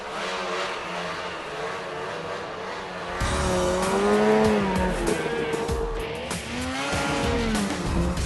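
Snowmobile engine in backcountry snow, a sustained motor drone that rises sharply in volume and pitch partway through as the rider accelerates, with revving swells and no speech.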